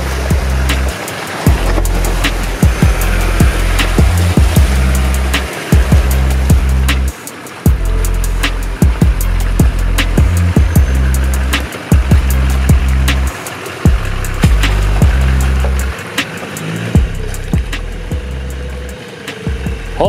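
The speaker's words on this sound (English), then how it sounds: "Hilux has got a good exhaust on it, sounds pretty tough." A loud, gruff Toyota Hilux engine and aftermarket exhaust rumble steadily, with repeated throttle surges and sharp clattering knocks over the low drone, in a muddy forest.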